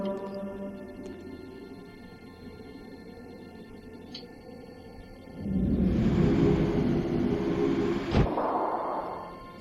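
In The Dig video game, a tram starts up after a quiet hum, then rolls along in a loud, broad rumbling whoosh for several seconds before ending with a clunk and fading hiss.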